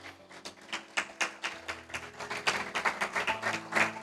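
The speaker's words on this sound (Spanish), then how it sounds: "dele un fuerte aplauso al Señor" Rhythmic hand clapping from a church congregation, steady and fairly close, building slightly in intensity over a few seconds.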